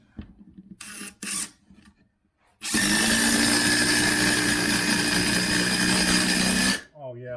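Hart 20V brushless 1/4 inch impact driver drives a lag bolt in one loud, continuous burst of about four seconds, after a few short trigger blips and some brief talk.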